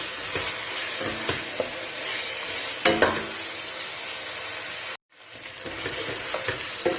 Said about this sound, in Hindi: अदरक लहसुन के पेस्ट के साथ हम थोड़ी देर के लिए गोश्त को भूनेंगे